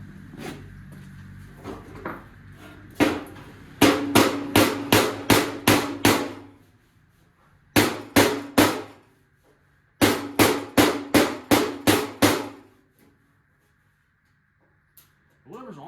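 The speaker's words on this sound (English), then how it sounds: "Try to knock that dent out real quick." Hammer blows knocking a dent out of a 1979 Volare wagon fender, loud ringing metallic strikes in quick rhythmic bursts of five to seven hits separated by short pauses, close up with a couple of softer taps at the start.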